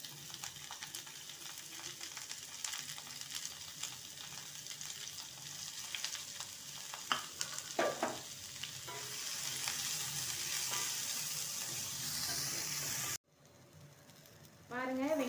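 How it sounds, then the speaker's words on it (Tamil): Dried red chillies and onions fry in hot oil for a chutney, a continuous close sizzle with stirring clatter that briefly cuts out near the end before resuming. "இப்போ இந்த டைமில் இந்த காஞ்ச மிளகாயும் இந்த வெங்காயத்தையும் இதில் சேர்த்துடலாம்."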